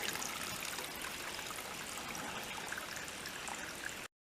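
Spring water runs steadily out of two pipes at a mountain spring near a hut in Shenandoah National Park, a continuous close splashing stream that cuts off abruptly at the end.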